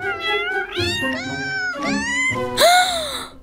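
A cartoon cat gives a quick series of loud, close meows, each call sliding in pitch, with the final one rising into a brighter, squealing cry.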